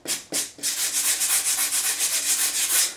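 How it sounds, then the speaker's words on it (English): A metal file used for guitar fret work being cleaned, steady rhythmic scraping strokes repeated in quick succession after two separate opening strokes, close and moderately loud with no voices. "Clean the file."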